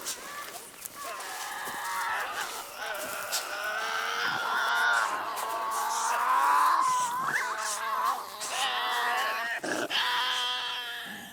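Tasmanian devils shriek and wail continuously, a harsh, rising and falling chorus of unearthly cries and growls, loud and close throughout with brief breaks.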